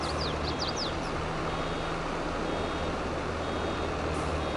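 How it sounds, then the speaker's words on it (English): Short repeated electronic warning beeps from a nearly full baler in Farming Simulator 22 chirp faintly at the start, over a steady loud engine and machinery drone. "it is beeping. It's just telling me it's nearly full."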